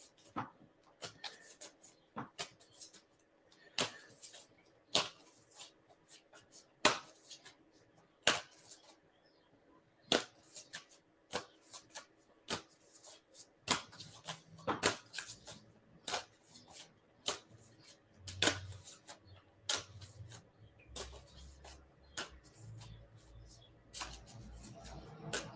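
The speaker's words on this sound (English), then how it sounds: "Actually, let's shuffle this one first." A deck of playing cards being shuffled by hand indoors, with a run of crisp, repeated riffling snaps and rustles, close and fairly quiet, with faint low background noise later.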